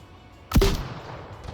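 A single heavy M2 shot in the VR shooter Onward, sharp and booming, with a short rumbling tail that fades over about a second.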